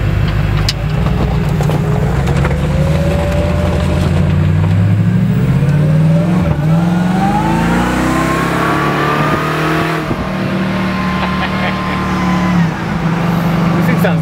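Supercharged Coyote V8 swapped into a 1978 Ford F350 dually, engine and exhaust droning steadily while loaded up and accelerating, pitch rising and falling through gears, loud and close throughout with some road noise.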